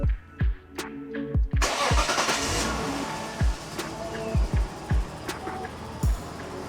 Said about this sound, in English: Got to start her up. See if she runs with the new fuel pump.